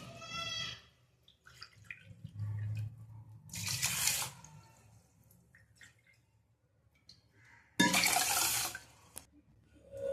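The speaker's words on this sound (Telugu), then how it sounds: "అదే కప్పుతో 3 కప్స్ వాటర్ వేయాలండి" Water is poured from a cup into sugar for gulab jamun syrup in a home kitchen, in separate bursts of splashing pour, close and fairly quiet, with stillness between pours.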